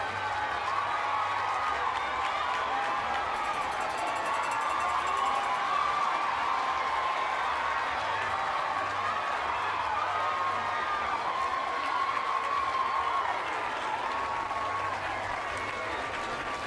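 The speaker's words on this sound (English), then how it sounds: "Cheer loud and proud." A high school crowd at a Jacket Day event cheers and applauds loudly and steadily throughout, a dense continuous roar of clapping and voices.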